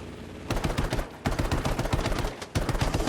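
Aircraft machine-gun fire in Battlefield V, a Japanese fighter over Iwo Jima: three long bursts of rapid, loud rattling shots with brief pauses between them, no talk over it.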